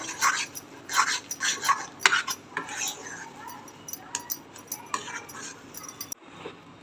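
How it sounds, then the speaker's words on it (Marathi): A spoon scrapes and clinks against a pot while besan gram flour is stirred in, in quick irregular metallic strokes up close, slowing into scattered taps toward the end. "बघा मी थोडं थोडं बेसन लावून फिरवून घेते त्याच्या गुठळे व्हायला नको"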